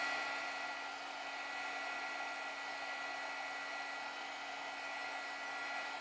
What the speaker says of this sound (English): I'm drying this cute little flower